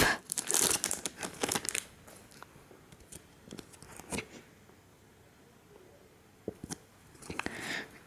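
A Pokémon Breakpoint booster pack being torn open, with close crinkling foil wrapper, sharp tearing bursts at the start, scattered rustles, and a final crumple, no talking.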